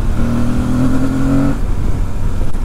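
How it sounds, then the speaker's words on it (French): A trail motorcycle's engine and exhaust rev up loudly and close, a rising buzzy tone holding for about a second and a half before dropping off into road rumble. "Le son est vraiment très sympa de ce moteur et cet échappement."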